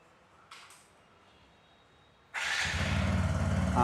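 A new 2025 TVS Apache 160 2V motorcycle with a 159.7 cc air-cooled four-stroke single starts up. A few quiet clicks come first, then the engine catches abruptly and settles into a loud, steady close-range running note.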